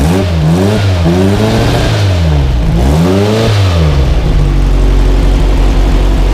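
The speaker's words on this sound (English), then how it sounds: "Go ahead and rev it up a little bit." A 1969 Volkswagen Formula Vee race car engine revs up and down in repeated swells, pitch rising and falling several times before dropping back to a rough, steady idle.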